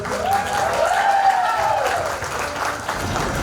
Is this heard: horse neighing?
no